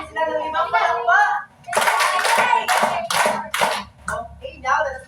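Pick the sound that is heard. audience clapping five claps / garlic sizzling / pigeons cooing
audience clapping five claps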